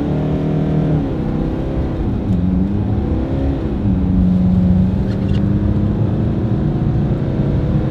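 An Audi, BMW or VW launching hard in manual S-mode on a snowy road for a 0-60 test, engine revving loudly and continuously with rising and falling pitch as it shifts through gears, close and steady throughout.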